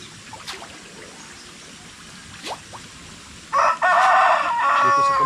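Outside in a rural province, a rooster crows loudly and close, cutting in after a stretch of quiet ambience with faint distant bird calls and chirps.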